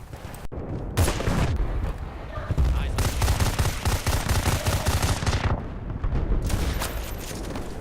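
Dense multiplayer combat in the video game Battlefield Bad Company 2: loud, continuous rapid gunfire mixed with heavy booms from a 40mm grenade launcher and explosions, close and chaotic, with a brief cut near the start.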